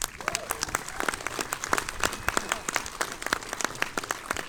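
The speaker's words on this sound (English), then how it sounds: "another round of applause." Audience applause rings out at a Q&A for the film Joker, a steady patter of many hands clapping close by with sharp individual claps standing out, holding its level throughout.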